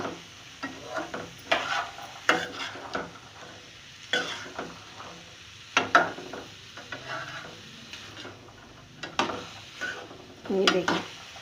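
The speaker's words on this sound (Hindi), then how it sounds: "मुझे इन छोलों को इसके साथ मिक्स करके थोड़ा सा भूनना है" Black chickpeas are stirred and roasted with spices in a pan over a raised flame, as repeated scraping and clattering strokes of a spoon sound over a low sizzle, with quiet gaps between bursts.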